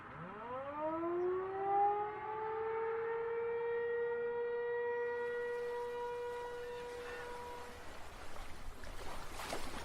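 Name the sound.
siren sound effect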